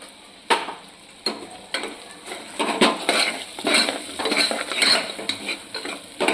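A spoon scrapes and clinks against a pan while coriander-cumin powder and chilli powder are stirred, with irregular metallic knocks and a faint sizzle underneath.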